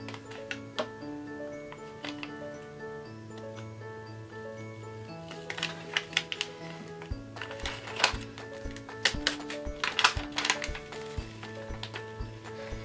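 Iron-on transfer paper being slowly peeled off a t-shirt after pressing with a Cricut EasyPress, giving soft crackling ticks that grow denser and louder toward the end, with no talk.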